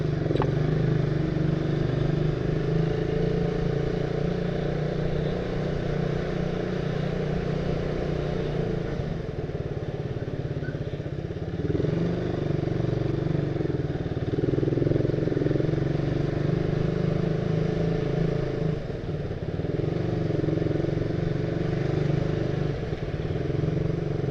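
A motorcycle rides steadily along a road in Bintara, Bekasi, its engine humming at a low even pace with road rumble and wind, close and continuous throughout.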